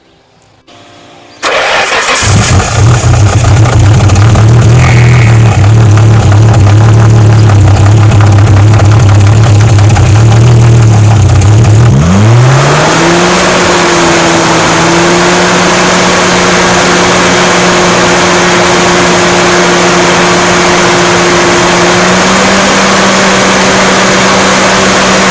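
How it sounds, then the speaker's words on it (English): A Gktech cooling fan installed on a Nissan GTR RB26 engine. The engine starts and settles into a steady idle, then the fan cuts in with a loud, constant whooshing roar layered over the engine hum. No one talks. "now we've got our nice new GK fan installed and you'll be able to hear what it sounds like"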